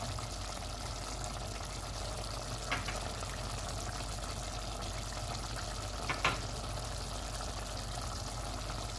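Spices frying with tomatoes in a beef handi pot, a low, steady sizzle with two brief sharp clinks of a spoon against the pot, faint and unbroken by speech.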